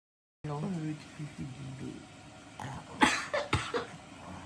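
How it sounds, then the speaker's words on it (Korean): Several harsh coughs in quick succession near the end, after a stretch of low voiced sounds, fairly close and moderately loud. "진짜 집구석이 진짜 기침쟁이들로 가득 찼어"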